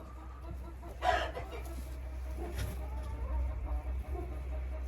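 Chickens cluck inside a farm henhouse where nests are checked for eggs, with a couple of short, fairly close calls standing out over a steady low background hum and faint shuffling, no voices.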